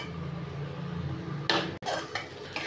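Prawns frying in a pan for prawn curry, with a low sizzle under a few clattering scrapes and knocks of a utensil against the pan, close by and without talk.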